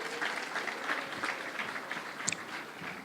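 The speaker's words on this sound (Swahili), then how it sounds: "Tuwapigie makofi hawa rembo." A seated audience claps for the women rally crews, a steady patter of applause at moderate distance that holds for a few seconds with a couple of sharper individual claps near the end.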